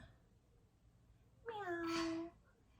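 A cat gives a single clear meow of just under a second, rising then falling, in a quiet indoor home setting with faint background hum before and after.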